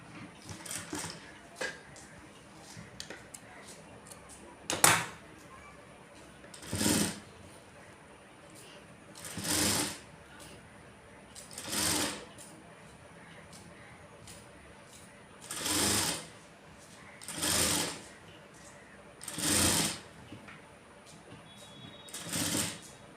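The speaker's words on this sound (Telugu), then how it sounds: "ఇప్పుడు ఇటువైపు కుట్టుకోవాలి ముందు వైపుకు స్టిచ్చింగ్ చేసుకోవాలి" A sewing machine stitches a blouse in repeated bursts of rapid mechanical clatter, each a second or two long and separated by quiet pauses, with some faint handling sounds between runs.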